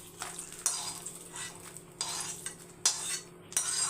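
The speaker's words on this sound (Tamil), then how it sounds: "வேர்க்கலையை போட்டு வறுத்து எடுத்துடலாம்" Peanuts roasting in a pan are stirred with a utensil, several distinct scraping and rattling sweeps over a faint low hum, each stroke close and brief.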